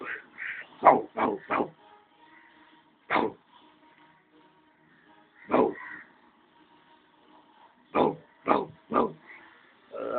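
A nearby dog barks in short bursts, a quick cluster at first, then scattered single barks and another rapid run, with near silence between.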